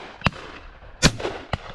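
Shotgun shots fired at partridge on a driven game shoot, three sharp cracks spaced across a couple of seconds, the middle one loudest and nearest, each ending in a short rolling echo outdoors.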